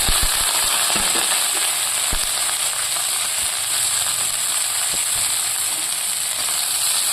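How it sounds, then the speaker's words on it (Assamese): Onions fry with capsicum and cabbage in a hot pan, giving a loud, continuous close-up sizzle with scattered crackles and pops and no talking. "এইফালে মই পিঁয়াজখিনি ভাজি আছোঁ, আৰু ইয়াতে মই দি দিম কাটি থোৱা কেপচিকাম আৰু বন্ধাকবিখিনি"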